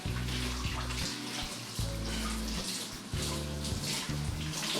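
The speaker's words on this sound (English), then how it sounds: "take romaine lettuce and put it in a large bowl or tub and wash it that way" Cold water splashes and sloshes steadily as romaine lettuce is washed by hand in a large bowl or tub, a continuous close watery churning with no talking.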